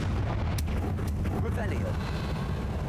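A Confringo fire spell exploding in Hogwarts Legacy, a rumbling blast with a few sharp cracks over a low roar, fairly quiet and brief.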